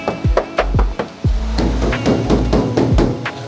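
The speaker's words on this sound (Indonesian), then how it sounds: "Cuma dengan menggunakan tangan suaranya seperti ini." A hand knocks on the bare metal body panel of a Daihatsu Sirion hatchback, a string of hollow thuds in an uneven rhythm, close and fairly loud, each ringing briefly with a low boom.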